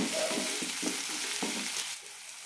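Garlic and ginger fry in a pan with a steady bright sizzle, broken by a few stirring scrapes before it fades quieter near the end.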